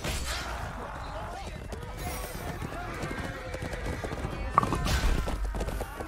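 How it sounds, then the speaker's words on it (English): In a gang-war roleplay video game, a horse's hooves clip-clop steadily and it whinnies, with gunfire bursts and players talking over the busy scene. "This fucking horse, kill this horse."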